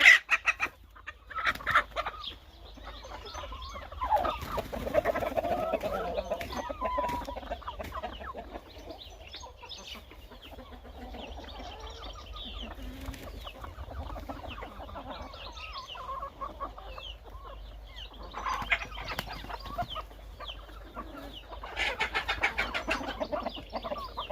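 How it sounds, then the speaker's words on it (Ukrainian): Several young roosters cluck and chatter nearby in overlapping bursts, with occasional louder squawks and short attempts at crowing. "І півники маленькі."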